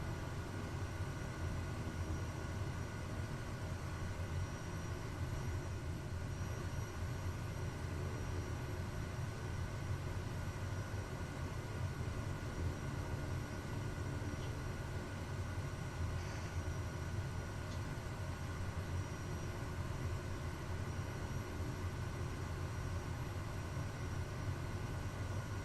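A Kodiak 100 turboprop engine holds a steady low idle while the aircraft taxis in beta, a constant drone and hum with no voices.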